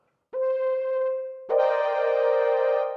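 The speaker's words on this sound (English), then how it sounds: "we've got a pad sound there" A synth pad played on a Teenage Engineering OP-1: a sustained tone enters, holds for about a second, then a fuller, brighter chord swells in and sustains steadily to the end, with no other sounds.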